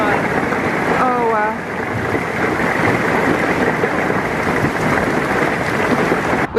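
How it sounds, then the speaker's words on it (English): Hail and rain pour down outdoors in a hailstorm, a dense, loud, continuous hiss and patter of drops and small hailstones striking the ground and nearby surfaces, with a brief whistle-like sound early on. "It is hail! It's hailing!"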